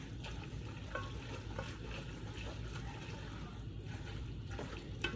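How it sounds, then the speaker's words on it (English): Lumpy mascarpone is broken up and stirred into a tuna casserole, giving a faint, continuous soft scraping and squelching with small clicks, quiet and close with nobody talking. "The mascarpone's gonna be really lumpy to start. You wanna just kind of start breaking it up, mixing it in."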